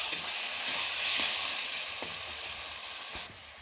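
Sliced green chilies stirred into cooking taro leaves in a pan, a soft continuous sizzle with a few light spoon taps.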